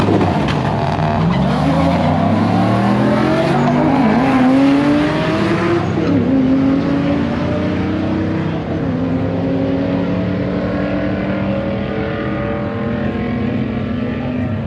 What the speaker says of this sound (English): That is one fast Lexus